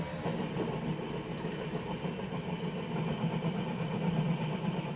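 Continuous low rumble of a moving Sealdah to Patna passenger train leaving Brahmapur station in Odisha, with a rhythmic clatter of wheels on track, steady and close, with no talking.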